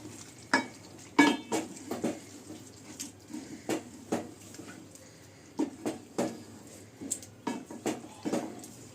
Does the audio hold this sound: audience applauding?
no